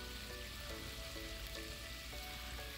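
Seasoning ingredients for a white bean feijoada fry lightly in a pan, giving a faint, steady sizzling hiss that stays even throughout, with some quiet background tones.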